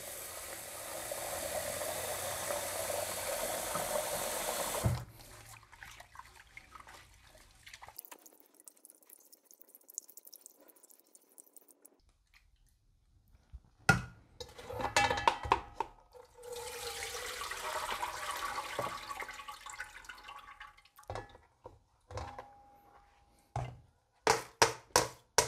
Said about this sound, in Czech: Rýži dvakrát propláchnu ve studené vodě.